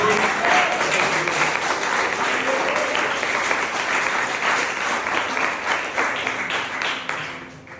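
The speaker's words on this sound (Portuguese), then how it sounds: "Você pode aplaudir o nome do Senhor Jesus?" A church congregation applauds during a Portuguese-language sermon, with dense, sustained clapping that fills the room and tapers slightly at the end.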